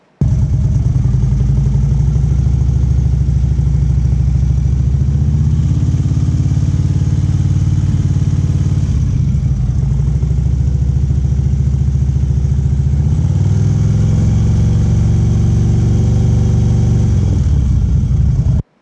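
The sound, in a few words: motorcycle engine revving from wrist rolling on throttle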